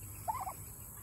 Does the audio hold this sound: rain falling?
no